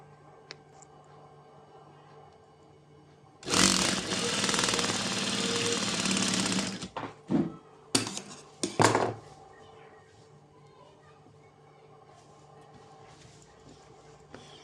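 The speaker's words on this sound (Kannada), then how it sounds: "ಯಾವ ಥರ ಇದೆಯೋ ಅದೇ ಥರ ಸ್ಟಿಚ್ ಮಾಡ್ಕೊತೀನಿ" A sewing machine stitches the back round neck of an umbrella-style top: one loud, sustained whirring run of about three seconds, then several short stop-start bursts over a quiet room hum.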